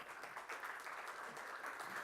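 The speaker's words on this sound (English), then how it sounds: "Great, clap." A magic show audience claps for a volunteer, a dense steady wash of applause from many hands filling the whole moment, with no voices over it.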